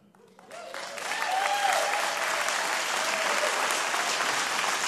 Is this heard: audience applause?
yes